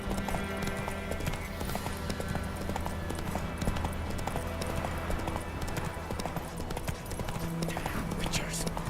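A horse's hooves clip-clop at a steady trot in The Witcher 3, with a constant background of ambient game sound. There is no talking.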